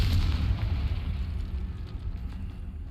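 A Confringo blasting spell explodes in Hogwarts Legacy, a loud booming burst with heavy low rumble that decays gradually over a few seconds.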